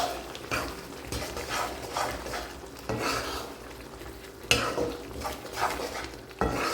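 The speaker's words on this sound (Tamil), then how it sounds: "அது எல்லாத்தையும் சேர்த்துட்டு நல்லா கலந்து விட்டுக்கலாம்." A spoon scrapes and stirs turmeric and asafoetida into tomato thokku in a metal pan, with irregular close clinks and scraping strokes over a soft background, several sharper knocks against the pan.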